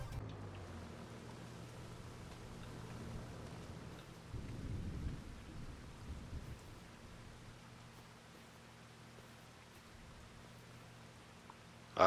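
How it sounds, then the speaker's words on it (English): Rain and rolling thunder in Farming Simulator 25, a steady quiet hiss of rainfall with a low rumble swelling midway and fading, then a sharp loud burst at the very end. "It's raining."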